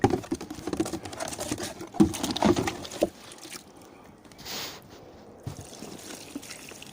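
Water splashes and patters onto raw bean plants in a garden, irregular bursts of pouring followed by a quieter stretch with a brief trickle; no speech.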